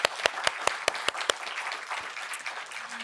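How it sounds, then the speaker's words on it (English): An audience applauds artists: a handful of sharp, evenly spaced claps at the start quickly merges into a fuller, continuous wash of clapping at moderate volume. "one more round of applause for all of our artists and their hard work"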